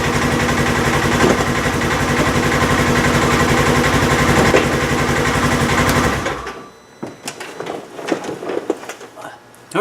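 A Polaris RZR engine runs loud and steady through gear changes, then cuts to quieter clunks and clicks from the shifter, while someone talks over it.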